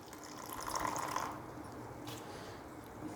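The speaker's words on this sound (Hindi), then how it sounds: "इसके अंदर थोड़ा पानी ऐड करेंगे और मिक्स कर देंगे" Water is poured into a tablespoon of flour to mix a batter for coating pumpkin cutlets. The pour is a soft, brief trickle over quiet kitchen background noise.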